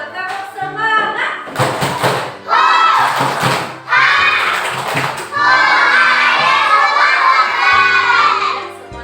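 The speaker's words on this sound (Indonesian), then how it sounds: "Kita tepuk semangat dulu, tepuk semangat." Classroom of children doing a rhythmic spirit clap: bursts of patterned group clapping alternating with loud, energetic shouted chanting in unison, filling the room.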